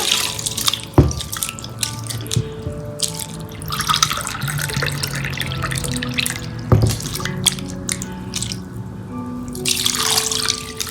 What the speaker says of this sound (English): I'm going to add about 3 cups of water for now